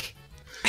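A single quick sneeze bursts out at the very end, close and fairly loud, after a moment of low background sound while Mario Party 1 plays on Yoshi's Tropical Island.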